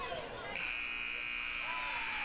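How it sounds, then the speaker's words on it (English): A basketball game clock buzzer sounds at the end of the third quarter of a girls' game, a loud, steady electronic drone that starts about half a second in and holds to the end, under crowd noise. "And on a break, Kinley gets the third shot off just in time to beat the buzzer."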